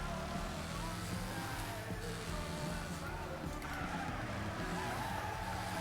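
Handbrake skid of a car in the Wreckfest racing video game, Getaway Heat tournament, with engine roar and tire squeal running steadily through the whole stretch under faint game audio.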